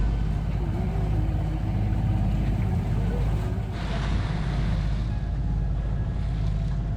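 A sailboat heading out of a channel on an ebbing tide through small, calm waves at sea, with a steady broad wash of water and wind noise throughout. Hull hiss and splashing stay constant and loud.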